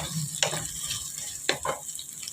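Turmeric root, garlic and onions sauté in a pan with a steady close sizzle. Two sharp stirring scrapes punctuate it, and no voices are heard.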